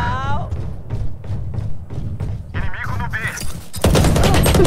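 Rapid gunfire and thumps in a video game give way to a loud, sustained grenade explosion blast, with a voice speaking Portuguese over the action.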